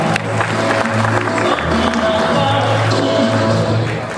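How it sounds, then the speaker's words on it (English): Steady applause from an audience fills the room, continuous and fairly loud with a dense crowd texture throughout. "We can clap for them once more."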